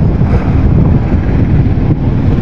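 A boat running on a single engine, a loud, steady low rumble that holds without a break, mixed with wind noise and no talking.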